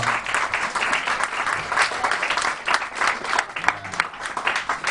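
Audience applause at a French comedy club fills the room, steady dense clapping from a large crowd with a few louder claps, continuous for the whole stretch with no speech over it.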